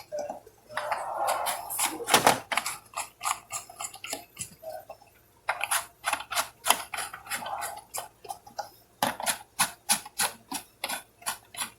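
Wheel nuts on a Chevy Malibu being turned by hand with a socket, giving rapid ratchet-like clicking in several quick bursts separated by short pauses, close and fairly loud, without speech.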